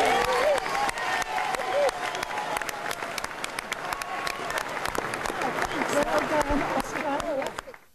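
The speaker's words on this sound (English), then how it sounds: "his words were greeted with applause and release." A crowd breaks into sustained applause, clapping dense and close with voices and cheering mixed through it, before cutting off abruptly at the end.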